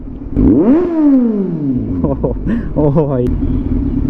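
A loud Kawasaki Z900 motorcycle engine revs up and falls away in sweeping pitch, then blips again, with a man exclaiming over it close by.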